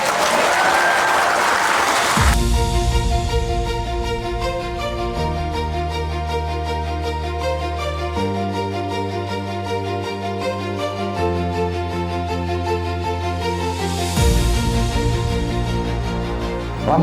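A crowd at a Lampung small-business gathering gives short bursts of clapping at the start and again near the end, while sustained tonal music fills the stretch in between.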